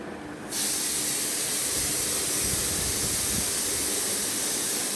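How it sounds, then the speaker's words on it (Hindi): Loud, steady hiss of a pressure cooker venting steam while cooking cauliflower and meat in a home kitchen, starting abruptly after a brief quiet moment and continuing unbroken at full strength. "प्रेशर कुकर हमारा चल रहा है।"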